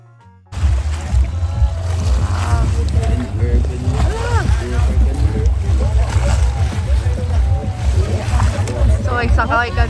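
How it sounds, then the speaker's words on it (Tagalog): A round basket boat moves through water in a coconut forest in Hoi An, with a steady low rumble and splashing throughout. People talk and call out over it, and a faint hiss sits in the background. "The basket boat ride here in Hoi An is located in Bai Mau Coconut Forest."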